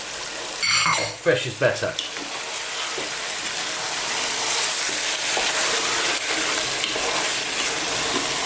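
Pureed tomatoes sizzle loudly in a hot pan of chicken masala curry while being stirred, a steady frying hiss with scraping, after a brief spoken remark at the start.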